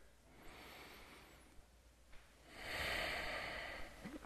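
A slow, deep breath taken during a seated yoga stretch, a soft close inhale swelling into a longer audible exhale, with no talking.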